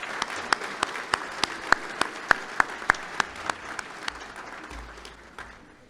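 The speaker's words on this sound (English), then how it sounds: "let's have an applause for all the honorees" Applause for honorees at a community legislative breakfast: a few people clapping in a steady, slightly slowing rhythm of distinct claps, moderately close, fading out after about four seconds.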